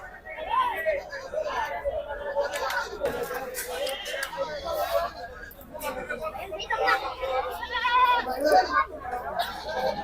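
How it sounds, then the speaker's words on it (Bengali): Black Bengal goats bleating at the Ashulia livestock market, where sacrificial goats are sold. Repeated nearby bleats mix with busy crowd chatter and voices throughout. "ক্রস জাতের খাসি আছে, তোতাপুরি খাসি আছে, ব্ল্যাক বেঙ্গল খাসি আছে।"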